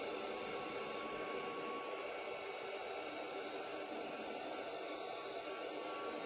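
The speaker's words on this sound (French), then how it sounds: "Donc je vais sécher avec mon gun de chez Craftelier" A Craftelier heat gun blows steadily on craft work at low power, a constant broadband airy roar lasting the whole stretch without pause.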